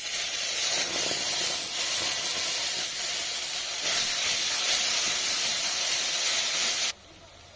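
Tomato paste hitting hot spice paste of ginger, garlic and masala in a pan for an egg pepper fry, giving a loud, steady hiss of sizzling that holds for about seven seconds and then cuts off abruptly.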